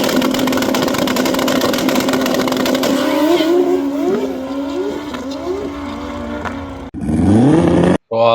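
Bus1k drag race car on a pass: a loud steady engine drone with rising and falling revs through gear changes, a brief dropout near seven seconds, then a sharp surge of high revs and a sudden cut.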